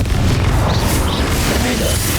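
A Confringo spell explosion in Hogwarts Legacy, a dense, loud, sustained blast of rumbling booms and crackling bursts with no pause throughout.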